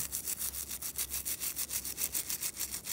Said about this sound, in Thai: ขัดเบาๆนะคะ ไม่ต้องแบบขัดแรงอะไรมากมาย